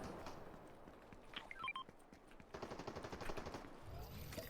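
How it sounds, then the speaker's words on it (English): Gunfire in the Fortnite video game, with rapid bursts of automatic shots crackling at moderate distance, interrupted by short electronic beeps, and the shooting continuing steadily toward the end without talk over it. "Yep, someone's firing at me."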